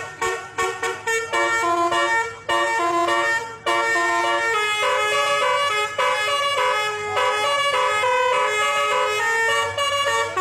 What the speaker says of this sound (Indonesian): Alunan klakson telolet yang khas menggema di garasi tersebut